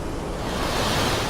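Floodwater from Hurricane Hilary surging through Southern California streets turned into rapids, a dense continuous rushing roar, loud and close, with no talk over it.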